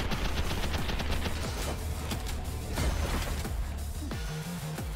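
Rapid bursts of video game gunfire pour out continuously, with dense overlapping automatic shots and loud pops repeating across the whole stretch, no talk over them.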